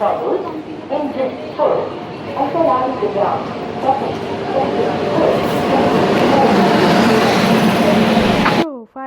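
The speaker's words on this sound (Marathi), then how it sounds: "आमची ट्रेन आत्ता आलेली आहे" A train rumbles into a station with a rising mechanical roar and screeching wheels, while people talk nearby.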